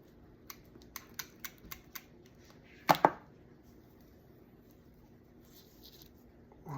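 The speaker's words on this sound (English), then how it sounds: "that one looks a little bit long. So what we're going to do is we're going to trim it down." Cutters snip a long wire to length, giving a sharp double clip after a run of faint, quick ticks and taps in a quiet room.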